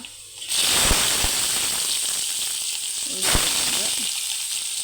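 Onion hits hot oil with popped mustard seeds, bursting into a loud hiss and sizzle that holds steady, with a second surge of crackle partway through.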